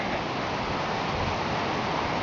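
Rushing river rapids at Big Shoals State Park, a steady broadband roar of churning water that holds constant and close with no voices or breaks.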